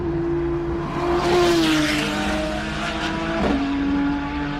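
A race car powers hard out of turn one at the Simola Hillclimb, its engine note holding a loud, steady drone that sags briefly and then climbs again as it accelerates, close and continuous.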